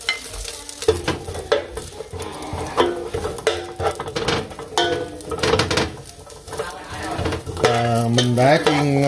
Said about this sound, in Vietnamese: Bây giờ để chảo cho nóng mình chiên lạc xưởng với thịt hộp trước.